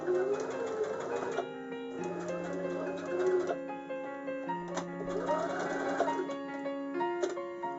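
A sewing machine stitches the corners of a fabric pouch with a rhythmic mechanical whirr that runs in short bursts. Steady tonal sounds play in the background throughout.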